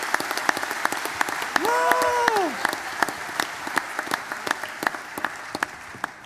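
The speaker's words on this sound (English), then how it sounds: "What about a round of applause for Emma, Hugh, Lisa, Mac, Nick, Patrick and Peter?" Audience applause for the finalists at the FMG Young Farmer of the Year 2023 grand final, a steady wash of clapping through the whole stretch with a loud whoop rising over it near the start.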